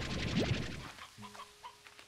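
Chickens in a video game give a few short, close clucks over a steady bed of game sound, then fainter scattered clucking with brief tonal game blips.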